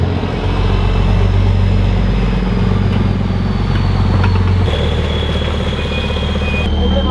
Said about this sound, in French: Il est parti en drift avec le camion.